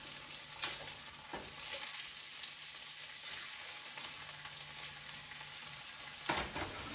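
Grouper fillets frying in a pan make a continuous soft sizzle, with a couple of brief louder scrapes or stirs near the start and end and no talking.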